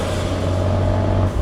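Abarth 124 Spider exhaust with its valves opened, a close, loud, steady low drone from the exhaust on light throttle during a night drive, holding evenly before a slight dip at the end.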